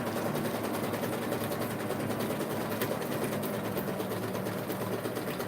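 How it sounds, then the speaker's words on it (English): Sewing machine stitching loose thread onto a junk journal embellishment, a continuous, even mechanical whir running close and steady throughout with no talking. "And we're going to sew them into this creation."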